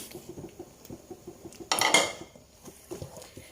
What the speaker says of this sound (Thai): เราจะเทส่วนผสมเลยค่ะ เพื่อทำการผัดนะคะ